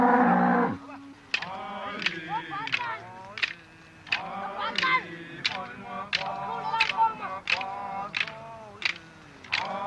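A herd of cattle lowing close by in a rural setting, several overlapping moos rising and falling in quick succession over about ten seconds, with some mixed voices and background sounds underneath.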